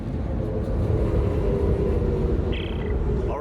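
A train assembling and readying to depart in Dead Space 3, heard as a loud, steady mechanical rumble and roar with a brief high metallic tone near the end, no talking.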